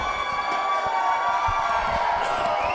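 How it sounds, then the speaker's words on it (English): A wrestling crowd at a Duke City Championship Wrestling event cheers steadily for a challenger at his ring introduction, a dense, continuous roar with scattered whoops that holds at an even level throughout. "And the crowd cheers."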